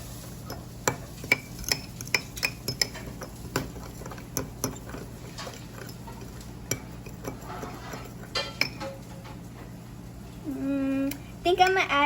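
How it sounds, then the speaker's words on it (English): A spoon stirs a chamoy gummy bear mixture in a bowl, making a series of light, irregular clinks and taps that are fairly close but soft. A voice speaks briefly near the end. "now I'm gonna mix it."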